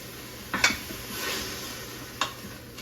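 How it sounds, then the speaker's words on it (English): Garlic and onions sautéing in an Instant Pot for black beans, a soft, steady sizzle with two clear clinks of a utensil against the pot. "we're going to saute those up for about 3 or 4 minutes until the onions are translucent"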